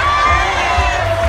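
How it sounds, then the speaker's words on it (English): At a Thor and Loki meet-and-greet show at Disney California Adventure, a crowd that includes many children cheers and shouts loudly in one continuous burst. "Will you cheer for your better?"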